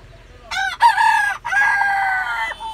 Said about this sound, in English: Two chickens in the bus.